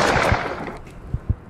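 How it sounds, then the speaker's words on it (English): Distant gunshots in a horror game spinoff of It Follows, a few dull, muffled pops in a city setting, with two clear shots near the end over quiet ambience. "Another shooting?"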